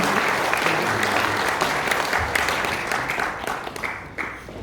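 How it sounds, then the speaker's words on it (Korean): Sustained crowd applause at a church missions board general assembly, loud and dense clapping throughout, tapering slightly toward the end. "다시 한번 박수 한번 보내주십시오."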